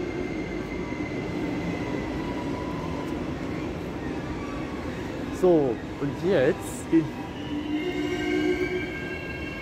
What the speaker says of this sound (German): Da kommt der Zug nach Rostock.